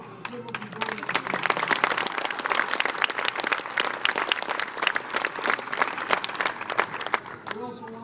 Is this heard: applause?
yes